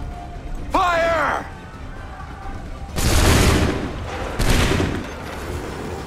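A musket volley in the Battle of Lexington in Assassin's Creed III, with two loud, ragged bursts of massed gunfire a second or so apart, preceded by a shouted command and followed by rumbling echoes under battlefield voices.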